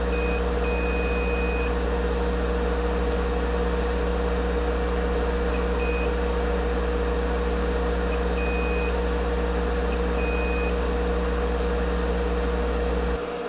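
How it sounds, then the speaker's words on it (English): Short high electronic beeps from a connection tester checking lines sound one at a time at irregular intervals over a steady loud low hum, with no talking. "Just to make sure we're getting these single beeps on all of the lines connected."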